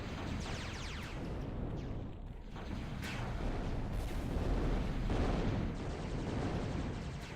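Rogue units fire in the real-time strategy game Zero-K during a 1 vs 1 match, producing a dense, loud, continuous barrage of overlapping artillery-like shots and booms with no gaps.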